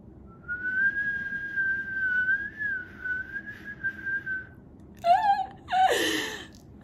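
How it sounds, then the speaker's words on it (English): A person whistles one sustained, slightly wavering tone for several seconds, close and fairly quiet. Then come a few breathy, squeaky vocal sounds and an exhale. "So you guys see, I can whistle."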